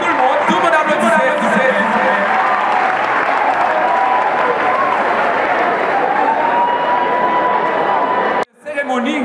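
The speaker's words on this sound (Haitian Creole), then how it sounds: "Et tout le monde cette fois-ci, c'est tout le monde applaudissez." An audience at a graduation ceremony for eight lycées claps in sustained, dense applause for several seconds, loud and continuous with a faint tone beneath, then cuts off abruptly near the end.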